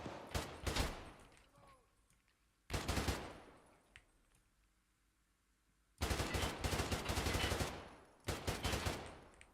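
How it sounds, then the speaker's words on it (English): Gunfire from players shooting each other in Escape from Tarkov comes in four loud bursts of rapid automatic fire, separated by short gaps of quieter background. "You're shooting each other, man."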